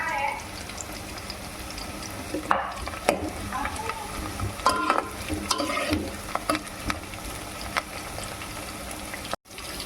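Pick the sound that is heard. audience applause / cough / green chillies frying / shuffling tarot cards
green chillies frying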